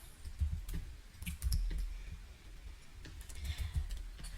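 Computer mouse clicking while working in Adobe Illustrator, a loose run of soft, close clicks and taps over low background rumble.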